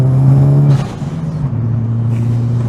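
A Mitsubishi Lancer Evo 8 engine drones loudly and close at steady revs, then drops and climbs again as the car accelerates, a strong low hum with a rough rumbling texture.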